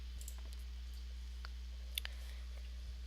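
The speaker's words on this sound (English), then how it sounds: "I'm just going to click on do this later" A computer mouse clicks an on-screen button during a Windows 10 install in VirtualBox: a faint, brief click over a low steady hum, with a few softer ticks around it.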